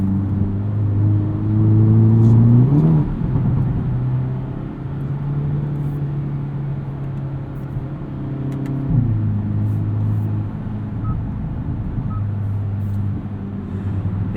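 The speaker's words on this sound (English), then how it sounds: "The exhaust is entertaining enough to be enjoyable, but not loud enough to be obnoxious" A 2022 Hyundai Elantra N's engine revs and pulls hard with its dual-clutch transmission, exhaust droning through rising and falling gear changes on salty, dusty roads, loud and close, with no one speaking.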